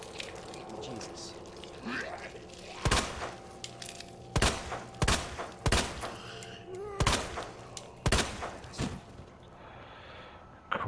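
Gunfire in the video game Resident Evil 2, a series of sharp single shots spaced irregularly, some in quick pairs, over a quieter background of game ambience.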